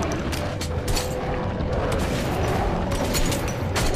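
Video game gunfire in Metro Last Light, a dense continuous clatter of shots and mechanical bursts over a steady noisy backdrop.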